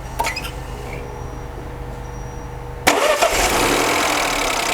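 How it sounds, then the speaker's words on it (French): A Peugeot 208 PureTech engine cranks briefly on its first start after a timing belt replacement, then catches and settles into a steady running idle, close and fairly loud. "on va faire le premier démarrage de ce véhicule après avoir remplacé la courroie de distribution"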